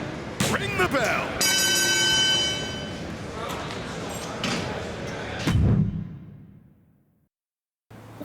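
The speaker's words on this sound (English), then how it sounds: "ring the bell" A wrestling ring bell in the WWE 2K25 video game rings out with a bright sustained clang. Thuds, slams and game crowd noise surround it, and the bell sound fades to silence before a final hit.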